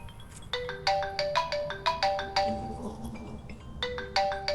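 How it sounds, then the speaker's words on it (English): A phone ringtone plays a bright, repeating run of chiming tones with a rhythmic pulse, close and clear over a low background hum. "The phone ring. You mean your phone ring?"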